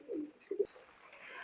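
An imported female high-flying pigeon coos close by, one low throaty call followed by a quick double coo, soft against a quiet room.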